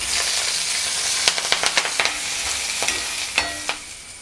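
Garlic and green chillies sizzling in hot oil in a pan for a Kerala-style egg roast, a close, steady frying hiss with a quick run of sharp spoon clicks and scrapes in the middle.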